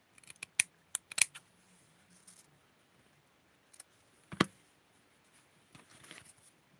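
Scissors snip thread while sewing clothes for a doll, a handful of small, crisp clicks in quick pairs near the start and a single sharper cut later, faint and close with quiet between.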